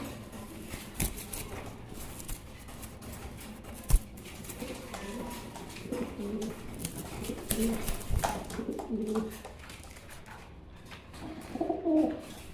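Fancy racer pigeons, including blue shirting birds, coo softly inside a cage in a quiet setting, with scattered low coos growing more frequent toward the end and faint wing or foot patter.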